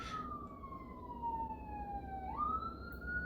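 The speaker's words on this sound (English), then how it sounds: "There's an ambulance driving by." An ambulance siren wails past outdoors, one long tone sliding downward and then jumping back up as the vehicle drives by, heard at a moderate distance over steady background hum.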